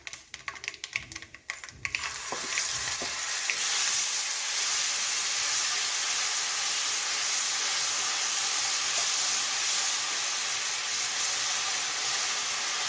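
Tamarind paste hits hot oil with mustard seeds for a ginger pickle on a low flame, a few clicks giving way to a loud, continuous sizzle and hiss that carries on steadily.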